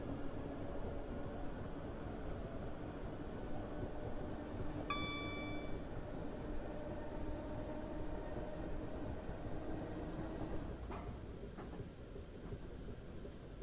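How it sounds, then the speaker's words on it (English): A Class 456 Southern electric train in Train Simulator 2015 rolls along track between London Victoria and London Bridge, a steady low rumble with a brief chime partway through and a faint clunk later. "I do like it when they've got a very realistic track sound"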